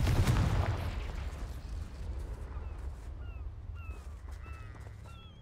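Fire and blast spells go off in Hogwarts Legacy on PS5, opening with a heavy booming explosion that rolls into a crackling, fading rumble, topped by brief magical whooshes and chimes.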